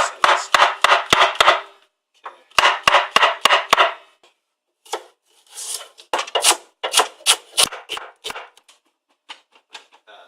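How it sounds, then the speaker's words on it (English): A knife chops unpeeled zucchini on a board into pieces similar in size to carrots, for a vegan lasagne. The sharp cuts come in quick rhythmic bursts with short pauses between them, close up and clear, with no talking. "I really don't mind not peeling these and just cutting them straight up"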